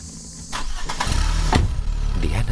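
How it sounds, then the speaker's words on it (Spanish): A car engine cranks and catches, then settles into a loud, close, rough idle that continues to the end, with no voices. "Diana ya había arrancado"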